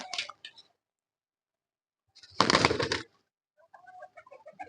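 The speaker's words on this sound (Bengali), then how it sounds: "এই যে এটা হচ্ছে আমার পেয়ারে কবুতর।" A pet pigeon coos in short soft bursts, with a louder fluttering rush in the middle and quiet gaps in between.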